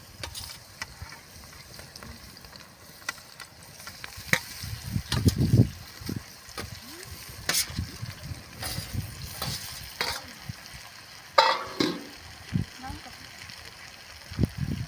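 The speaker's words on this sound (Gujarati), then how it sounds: "હવે આપણે તેને હલકા હલકા હાથેથી ઉપર નીચે ફેરવી દઈશું" Patra leaves with green chillies stir-frying in a pan, with a steady sizzle and repeated scraping and stirring strokes, louder bursts of spatula movement, and a voice talking over the cooking throughout.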